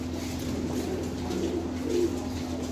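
Sialkoti golden pigeons cooing softly in a loft, low rolling coos repeating over steady background noise, fairly close but not loud.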